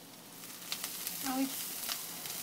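Chopped onions sauté for chana masala in a pan, a soft, steady low sizzle heard close, with a brief stir or clink partway through.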